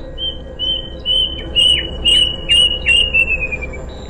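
A bird squawks repeatedly in a rapid series of sharp, high calls, loud and close over a faint steady background hum.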